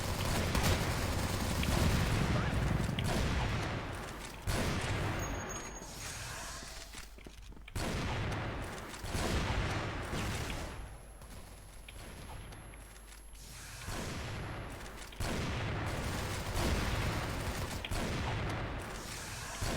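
Rapid gunfire in a first-person shooter video game, bursts of shots crackling in repeated volleys across the whole stretch, loud and close, with brief lulls between exchanges.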